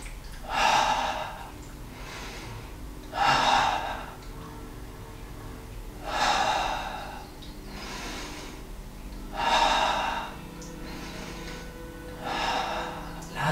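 Deep, slow breathing during a yoga class, rhythmic breaths drawn and released about every three seconds, close and fairly loud with no talking.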